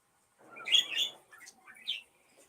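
A small pet bird chirps a few quick, bright tweets close by, with brief pauses between them and no voices.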